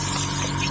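An airbrush being back-flushed with a finger over the nozzle cap gives a short, steady burst of loud hissing, bubbling air, alone and close.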